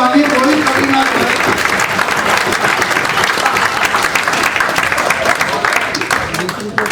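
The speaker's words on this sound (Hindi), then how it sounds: "तो बजाओ सारे एक बार जोर से ताली" An audience applauds poets at a Hindi poetry gathering with loud, sustained clapping that fills the hall from start to finish, with some voices mixed in beneath it.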